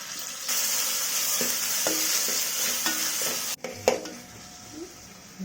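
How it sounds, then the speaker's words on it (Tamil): Tomatoes sautéing in a pan for a spicy mutton boti dish, a steady sizzle with scattered stirring scrapes and clinks throughout, briefly interrupted near the end. "இப்போ தக்காளியை சேர்த்து நல்லா வதக்கி விடலாம்"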